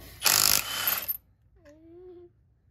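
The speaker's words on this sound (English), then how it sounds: "we're going to pull these bolts out back here" A burst of ratcheting from a socket wrench loosening bolts on the back of the cylinder head of a Detroit Diesel 60 series engine, about a second of rapid clicking, then a short whistle-like squeak and quiet.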